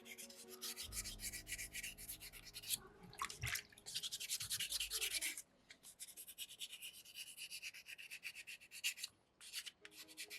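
Sandpaper rubs against a soapstone skull carving in quick, close back-and-forth strokes, coming in bursts of scratchy rasping broken by short pauses, with no one talking.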